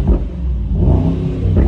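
A 2023 Mercedes-AMG SL63 convertible's V8 is revved twice in short, loud bursts close by, the engine roaring up, easing off, then swelling again with nobody speaking.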